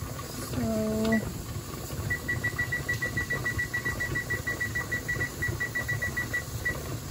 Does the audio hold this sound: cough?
no